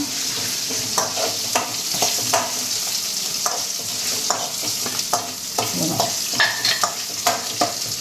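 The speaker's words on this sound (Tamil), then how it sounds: "பூண்டு நசுக்கி தான் வச்சுருக்குறேன் அதை போட்டுக்கலாம்" Crushed garlic and ginger fry in a pan for a blood fry, with a steady loud sizzle and repeated stirring scrapes and taps of a utensil throughout, close up and without speech.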